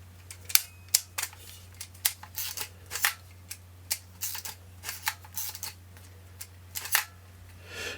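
Clicks and snaps from a camera with a faulty return mirror, its shutter fired again and again, close up and sharp, spread irregularly over a steady low hum.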